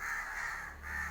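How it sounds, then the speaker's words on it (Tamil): Crows calling at a house, a few harsh caws close by, short and loud with a brief gap between them, no talking. "இங்கே பாருங்கள் எவ்வளோ காக்கான்னு."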